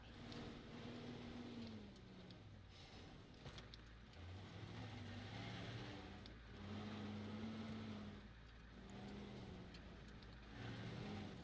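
A vehicle engine drives in the game Teardown, a low, steady motor hum with gentle rises and falls in pitch as it pulls away, continuous and moderately loud.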